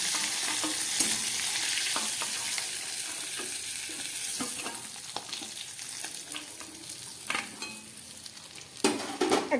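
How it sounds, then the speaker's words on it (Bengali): A hilsa fish head frying in hot oil makes a continuous close sizzle and crackle, with frequent spatula scrapes and stirring knocks against the pan and no talking. "খুব ভালো করে ইলিশ মাছের মাথাটা আমি ভেজে নিলাম এবার তুলে ফেলছি"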